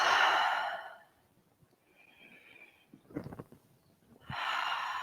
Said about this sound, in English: Nice big inhale.